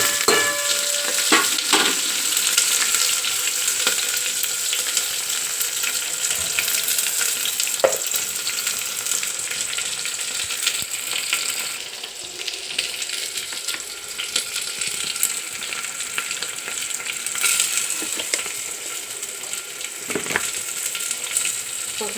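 Chopped onions frying in a pan of hot oil with dried chillies, a steady near sizzle throughout with occasional clinks and stirring scrapes, no talk.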